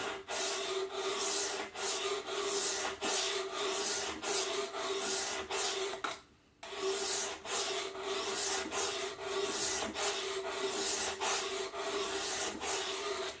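A knife blade drawn across a sharpening stone in repeated even strokes, a soft rasping scrape roughly every half second, pausing briefly in the middle before resuming at the same rhythm.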